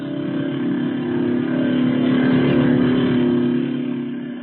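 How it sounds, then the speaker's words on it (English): Steady loud motor drone of an outboard motorboat in a race, engine noise swelling slightly in the middle, with no talking. "Outboard motorboat races."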